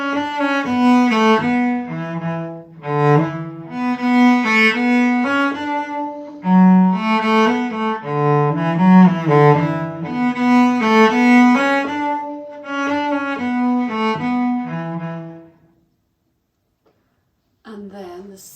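A cello plays the A part of The Road to Lisdoonvarna slowly, in a close, loud, sustained melodic line, then stops in brief silence before a short new sound at the end.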